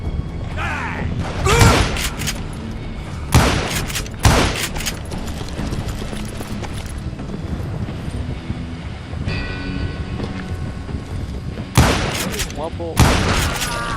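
Gunfire in the Wild West shooter Call of Juarez Gunslinger, several loud sharp bursts scattered across a dense game soundtrack, with someone speaking over it.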